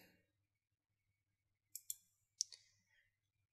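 Several quiet, crisp computer mouse clicks in near silence, two close together and then another pair a moment later.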